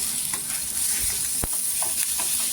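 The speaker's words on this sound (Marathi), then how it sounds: "आता हा मसाला छान असा भाजून घ्यायचा" Garlic and a tomato masala roast in a pan for a soybean curry, giving a steady close hiss with a few brief scraping stirs.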